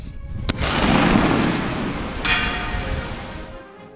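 A Parker Hale P53 Enfield rifle-musket fires at an outdoor range, a loud close blast that booms and rolls away over several seconds, with a second, fainter report partway through the echo.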